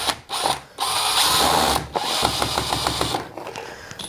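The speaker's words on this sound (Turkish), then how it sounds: "Daha sonra şarjı matkap ile sıkıyoruz." A cordless drill whirs in short bursts, driving a screw into an electrical junction box for a socket, with a rising, ratcheting buzz between brief pauses, close by.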